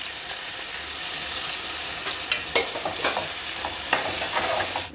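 Prawns and onions sizzle in hot oil for gongura prawn curry, a constant close frying hiss punctuated by a few sharp stirring scrapes and clinks.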